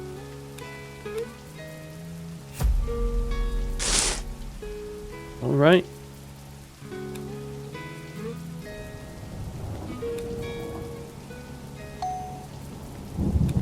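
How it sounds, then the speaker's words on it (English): Rain and rolling thunder from a windy storm in the survival game Oxygen: First Breath, with a bright chime and a rising tonal sweep over steady background music, a voice talking briefly. "Oh, that's a long windy storm."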